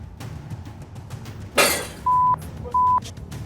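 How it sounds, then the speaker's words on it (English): A mirror falls and crashes in a corridor, giving one sudden loud shattering burst that trails off, followed by two short steady electronic beeps over low background noise. "The mirror fell and crashed in the corridor."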